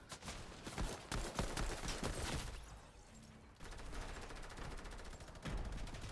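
Rapid bursts of automatic gunfire in a first-person shooter video game, dense and loud, with repeated volleys and short pauses between them.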